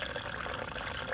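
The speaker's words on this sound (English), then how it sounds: "I'm going to pour it in" A steady, splashing rush as a liquid solution is poured into another solution in a chemistry colour-change demonstration, heard up close throughout.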